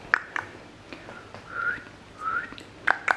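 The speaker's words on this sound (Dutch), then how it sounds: "Ik kan niet goed fluiten." A person attempting to whistle produces a few wavering, breathy whistle tones and short airy bursts, unsteady and intermittent, close and fairly quiet, with no talk.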